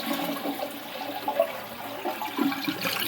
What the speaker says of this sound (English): or you can just flush the toilet.